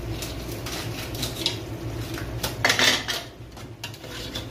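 Chicken tinola being stirred in a cooking pot, with repeated metallic scrapes and clinks of a utensil against the pot, close and moderately loud, over a low steady background hum.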